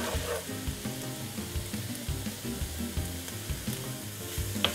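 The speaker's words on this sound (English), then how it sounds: "We'll stir that up a bit." Ground beef with oregano and cumin frying in a pan on medium-low heat, a steady close sizzle with soft scraping as the meat is stirred, no voices.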